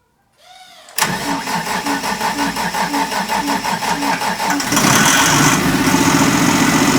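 A Technoma machine's engine cranks after a brief starter whine, its rhythmic, loud, close chugging running for several seconds before rising into a rougher, steadier roar.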